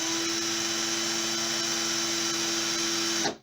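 An Aldi Workzone 18V cordless drill, freshly fitted with a replacement motor, runs at steady high speed with a constant whine for about three seconds, then cuts off abruptly.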